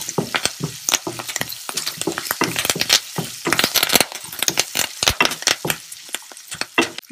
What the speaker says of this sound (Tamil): பெருங்காயத்தூள் போட்டு மிக்ஸ் பண்ணதும் நம்ம இதில் கருவேப்பிலை போடலாம்